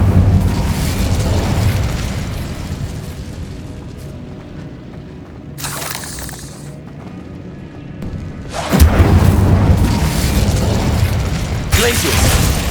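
An Incendio fire spell blasts out in Hogwarts Legacy, with loud roaring bursts of flame breaking in over a dense, rumbling game soundscape, followed later by another heavy surge.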